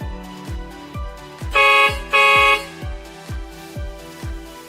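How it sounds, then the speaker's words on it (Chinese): A Weichai mining dump truck's horn gives two loud blasts, about a second apart, over a steady repeating ticking from the cab. "开喇叭开关"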